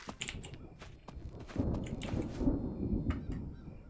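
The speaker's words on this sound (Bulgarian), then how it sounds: "Защо се гърми, като има някакви малки облачета?" Deep thunder rolls in around the midpoint and rumbles steadily to the end, loud and broad, after a few sharp clicks and taps at the start.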